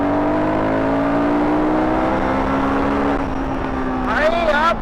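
A Royal Enfield Guerrilla 450 motorcycle accelerating hard in third gear, its engine note rising steadily and loud close by, then easing off before a short final revving surge.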